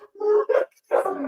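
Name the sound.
dogs barking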